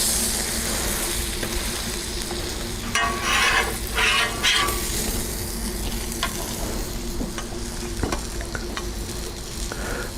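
Bacon and a burger sizzle on a grill, a loud continuous hiss and crackle throughout with a few brief bursts of stronger popping.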